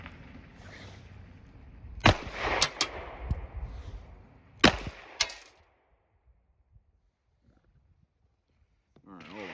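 Taurus GX2 9mm pistol shots ring out at a shooting range: a few sharp, close cracks spaced a second or two apart, followed by quiet. Someone speaks between the shots.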